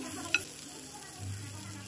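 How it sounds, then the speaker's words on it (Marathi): Prawns stuffed with green masala fry in a pan, a faint low sizzle with a single light utensil tap near the start. "ह्या कोलंब्या आपल्याला दोन्ही बाजूने लाल होईपर्यंत फ्राय करून घ्यायच्यात"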